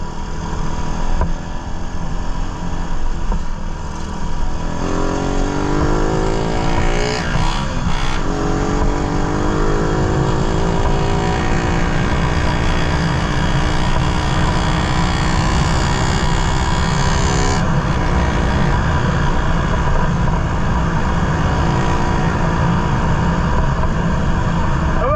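A Raider 150 motorcycle engine revs hard and up close, a raspy buzzing roar that climbs in pitch and then holds a steady high drone for most of the stretch, with a brief dip partway through.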